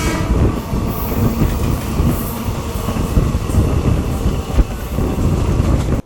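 The Madurai–Trivandrum InterCity Express runs along the track near Sattur, giving a loud, steady rumble with rhythmic clatter of the wheels over rail joints throughout.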